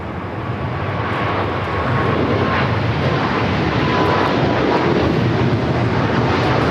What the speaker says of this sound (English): That is EVA Air Flight 5 taking off to Taipei on the 777-300ER.